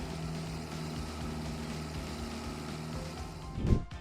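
Tractor engine idling in Farming Simulator 25, a steady low rumble with a brief louder thump near the end.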